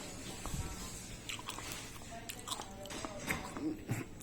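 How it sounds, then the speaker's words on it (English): Chewing baobab seeds, soft close crunching and wet mouth noises in irregular bites, faint and intermittent, with some muffled voice sounds. "But you need just as much work for chewing the seeds."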